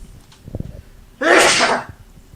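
One loud, close sneeze bursts out sharply after a few faint breathy sounds, lasting under a second.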